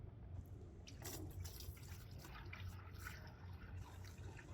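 Sealer pours into a 5-gallon bucket for a pump sprayer setup, a soft, steady liquid splash and trickle lasting several seconds at close range, fairly quiet.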